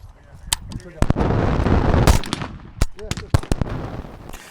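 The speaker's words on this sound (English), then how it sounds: "I'm running a J-Mac brake on this AK-103, my Destro build, so you can see in this video how flat it shoots." An AK-103 rifle fitted with a J-Mac muzzle brake fires outdoors at night in a string of sharp, loud, close shots with irregular spacing, and someone talks between the bursts.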